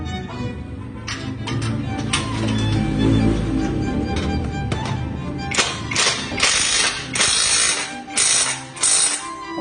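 A ratchet clicks steadily as it tightens the bolts on a newly built shop press in a motorcycle workshop. Bursts of rapid pawl clicks come up close and loud, with sharper, denser clicking toward the end and no talk over them.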